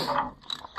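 Short clicking ratchet strokes from a Snap-on tap socket being turned to clean old threads during an Oliver 1365 tractor differential lock repair, heard as a quiet mechanical burst and then a pause.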